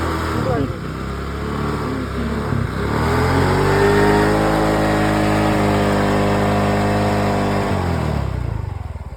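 A 2017 TVS Jupiter scooter engine starts and revs up, settling into a steady mid-pitched drone close by, with a voice talking over it.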